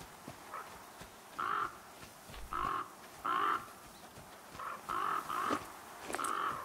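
A crow in The Flame in the Flood video game caws again and again in short bursts, some single and some in quick pairs, over a low outdoor ambience.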